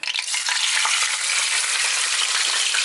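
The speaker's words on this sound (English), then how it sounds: "just fill the meat and brown it on all sides" Oxtail browns in a hot pan with a loud, dense, continuous sizzle and crackle close up. A faint scrape of stirring sounds beneath it and there is no talking.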